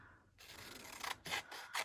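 Scissors slicing through paper scraps for a handmade journal cover, a few long rasping cuts close to the microphone, each stroke ending abruptly, with no talk.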